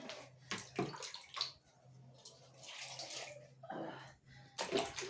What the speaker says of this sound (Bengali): ভাতে জল লাগবে জল দিলাম